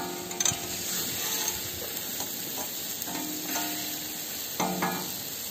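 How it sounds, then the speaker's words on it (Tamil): Jangiri sweets fry in hot oil, a continuous bubbling sizzle with scattered sharp pops and a few brief clinks, close and fairly loud with no voices. "ஜாங்கிரியை பாருங்க, செம்மையா போட்டாச்சு, எல்லாம் வெந்துகிட்டு இருக்குது. நல்லா இது எண்ணெயில குதிச்சுக்கிட்டு இருக்குது."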